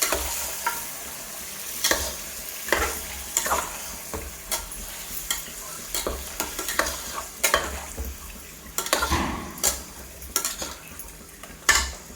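Marinated mutton and bay leaves sizzle and crackle in hot oil in a pan while a utensil stirs and scrapes, with irregular clanks and pops over a steady frying hiss.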